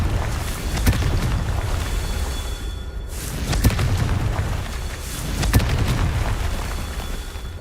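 Confringo fire spell blasts in the video game Hogwarts Legacy, heard as a continuous rumbling roar with several deeper booming bursts rising out of it, dense and loud throughout.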